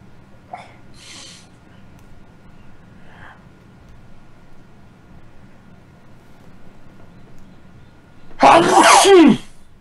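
A single loud, sharp human sneeze close by, bursting out near the end after a stretch of quiet room tone with a few faint small noises.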